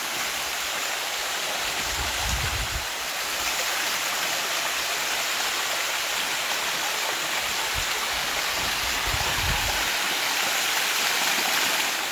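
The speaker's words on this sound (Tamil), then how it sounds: "மலைக்கு மேலேருந்து கீழே அருவி கொட்டுற வியூவை பார்த்துட்டு கிளம்பியாச்சு" Steady broadband roar of a waterfall cascading down a limestone mountainside at Bad Urach, Germany, a continuous full hiss with no voices, heard close and constant with a few low rumbling surges.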